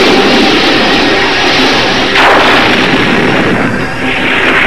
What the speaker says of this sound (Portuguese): Atirem e continuem atirando até essa gelatina se desmanchar.